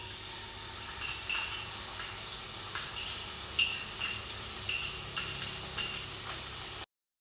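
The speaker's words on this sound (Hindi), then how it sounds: "ऑयल हमारा गर्म हो गया तो मैं इसके अंदर अब दाल डालूंगी।" Dal frying in hot vegetable oil for coconut chutney, a continuous close sizzle with occasional light clinks and scrapes of a spoon against the pan, briefly cutting to silence near the end.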